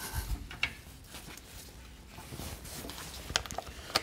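A workshop table is raised and then tightened, with close ratcheting and clicking mechanical sounds, irregular metallic ticks and scrapes over a short stretch, and no voices.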